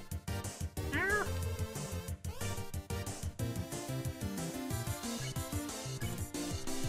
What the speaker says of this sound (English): You reach out and pet the crying cat's head.